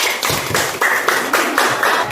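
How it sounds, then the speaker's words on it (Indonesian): A classroom of students claps for a classmate, a rhythmic patterned clap with regular beats about every quarter second, close and loud. "Kita berikan tepuk tangan untuk Nova."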